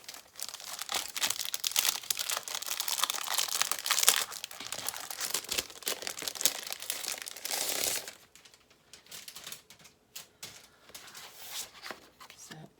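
Paper packing from a gouache art box is crinkled and rustled during unboxing, several seconds of loud, close, dense crackling that suddenly drops to sparse, quieter rustles.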